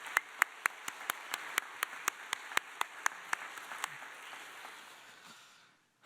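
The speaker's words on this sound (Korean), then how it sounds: "우리 함께 한번 감사의 박수, 우리 격려의 박수 한번 하겠습니다" A church congregation applauds the Wesley choir in a sanctuary, with steady, moderately loud clapping from many hands that thins out and fades to near silence at the end.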